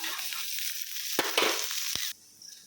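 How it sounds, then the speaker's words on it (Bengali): Chopped onions, green chili and coriander frying lightly in a pan, a steady close sizzle with a few sharp stirring clicks and scrapes, easing off near the end. "কাঁচা লঙ্কা দিয়ে পেঁয়াজ আর ধনেপাতা দিয়ে দিয়েছি, হালকা ফ্রাই করে নেবো হালকাভাবে।"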